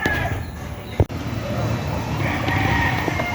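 Chickens and a rooster at a spacious, clean poultry farm beside rice fields, a crow and clucking at moderate distance over steady outdoor background noise, with a brief thump near the start.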